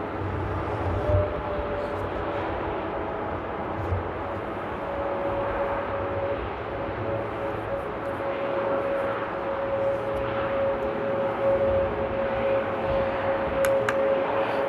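Aegean airliner landing in rain at Amsterdam Airport using reverse thrust, a steady broad distant engine roar with a rising whine, heard alone without talk.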